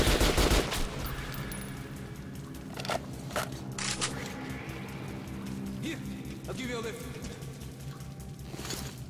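Gunfire from a shooting sequence in the video game Metro: Last Light, rapid bursts of shots rattling close and loud over a busy mix of game effects, with speech-like sound also present.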